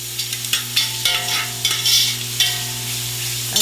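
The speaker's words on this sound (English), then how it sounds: "the rest of the onions we're going to saute here. You just saute it for a little while until it gets a little tender" Onions sautéing in a pan give a steady, close sizzle with a constant low hum under it, punctuated by brisk stirring scrapes at an irregular pace.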